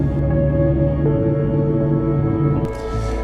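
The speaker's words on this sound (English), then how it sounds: "Tugboats idle as they wait for their signal to execute." A deep, steady tugboat engine rumble idles continuously with droning tonal hum and a slight shift near the end; no speech.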